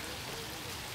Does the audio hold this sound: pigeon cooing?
no